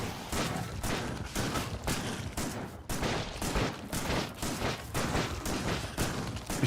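A shotgun fires again and again in the video game Factorio, with loud blasts at a steady, rapid rhythm. The shots run together over continuous battle noise.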